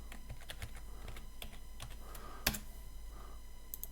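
Keys on a computer keyboard are tapped in quiet, irregular clicks, with one sharper keystroke midway, over a steady low hum.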